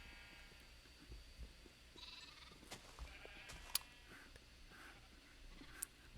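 Sheep in a video game bleat faintly among soft clicks and scratchy background sounds, a few short calls scattered across a quiet, low-level scene.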